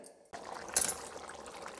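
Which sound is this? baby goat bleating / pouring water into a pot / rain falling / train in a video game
pouring water into a pot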